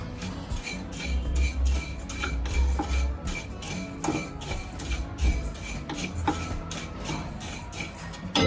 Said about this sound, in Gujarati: પછી વરિયાળી અને જીરું બે ભેગું કરેલું છે એ એમાં શેકી નાખીશું